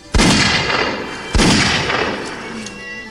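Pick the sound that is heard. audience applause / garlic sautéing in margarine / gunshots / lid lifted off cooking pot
gunshots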